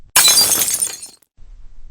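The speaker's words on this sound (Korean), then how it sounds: "손끝에서 미끄러진 반지가 바닥에 떨어졌다" A ring slips from the fingers, hits the floor and breaks in two, heard as one sharp, bright shattering crash that rings and fades over about a second, followed by near silence.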